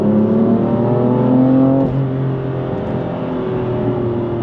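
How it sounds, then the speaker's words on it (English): A 2019 BMW M4 coupe in Sports Plus mode accelerates hard on a cold parkway, its engine note rising steadily in pitch before a brief dip at a gear change, then pulling on loud and continuous with no talking. "So we're going to go on the parkway and we'll give it some gas."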